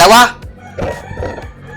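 A rooster crows loudly at the start, a short burst, followed by quieter background noise and faint distant sounds.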